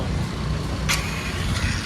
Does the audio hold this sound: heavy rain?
no